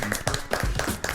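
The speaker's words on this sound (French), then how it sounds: "Des petits applaudissements, oui, pas trop, hein." Brief, sparse hand clapping from a small studio audience, a handful of uneven claps and taps that come close together and stop after about a second, with no voices over them.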